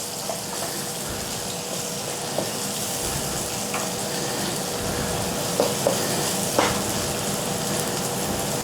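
Garlic and onions sweat in butter and olive oil in a pan, giving a steady, close sizzle with a few faint utensil taps over it.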